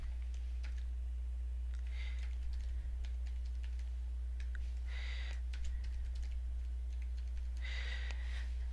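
Password keystrokes tapped out on a computer keyboard in short clustered bursts of clicks, set against a steady low electrical hum, with quiet gaps between the flurries.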